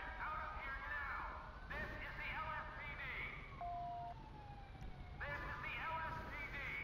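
An ambulance siren wails in the GTA 5 LSPDFR police mod at a chain-crash scene on a blocked road, with rising and falling tones that fade mid-clip and then return loud over steady traffic and engine noise.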